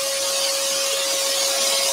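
Scroll saw blade cutting a wooden lantern pattern, a steady high buzzing hum with a fixed whine, close and continuous with no talking.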